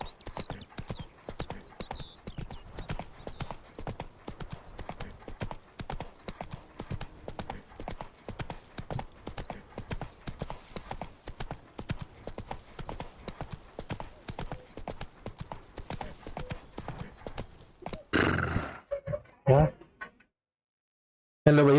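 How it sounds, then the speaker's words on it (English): Horse hooves clip-clopping at a steady gallop in the video game The Witcher 3, a dense rapid rhythm running nearly the whole time before breaking into a few louder thuds and stopping; a voice speaks briefly. "Run, Roach."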